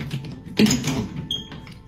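Someone tries a locked door inside a rented house, producing a short creaking, rattling mechanism sound with a louder jolt midway, then faint clicks. No one speaks.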